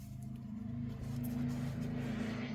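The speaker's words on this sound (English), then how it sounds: "You will be hearing hot rods zipping by today." Hot rod cars pass by at a nearby car show, a steady low engine rumble with a continuous droning hum that swells slightly and holds, fairly quiet and distant, with no talking.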